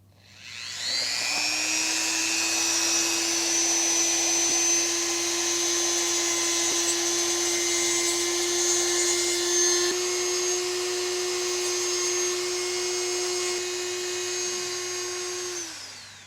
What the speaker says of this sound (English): So I got to put the drum sander on.